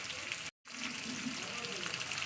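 Ginger garlic paste and turmeric fry in hot oil for a Bengali shrimp curry, giving a steady close sizzle that runs unbroken apart from one short silent gap.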